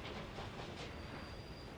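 A steam train runs on rails in the Workers & Resources: Soviet Republic game, a faint, steady rolling rumble of wheels with a thin high squeal creeping in partway through.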